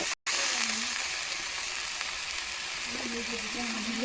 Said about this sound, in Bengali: মশলাটা ভালো করে তেল ছাড়া অবধি কষাতে হবে